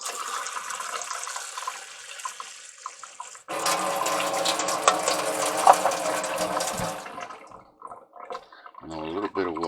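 Water runs from a tap into a Zojirushi rice cooker pot, a steady splashing pour that grows fuller and louder partway through, then stops, followed by a short burst of talk.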